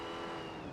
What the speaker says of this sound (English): The engine's really loud and you're really soft